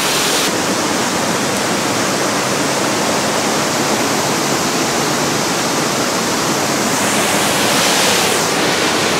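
Waterfall in Scotland, a loud, continuous broadband rush of falling water filling the whole clip at close range with no pauses.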